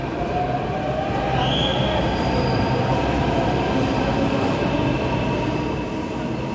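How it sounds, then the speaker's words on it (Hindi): Delhi Metro train bound for Rithala at Kashmiri Gate station, a loud, steady rumble of wheels on rails with a faint rising whine and squeal running throughout. "और यह रिठाला के लिए मेट्रो दी जा रही है।"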